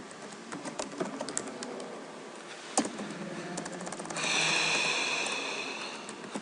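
Fingers type a login and password on a computer keyboard, a run of quick, light, close key clicks, followed near the end by a brighter hiss-like burst.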